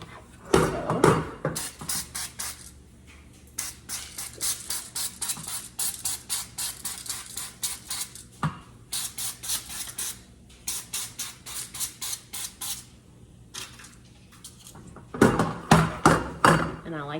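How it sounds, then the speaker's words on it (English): Cooking spray is spritzed onto dark paper muffin liners in a long run of quick, sharp hissing bursts, close by, with brief pauses between groups and a voice at the start and end. "I do spritz my paper liners because I find if I don't, it rips all the muffins apart"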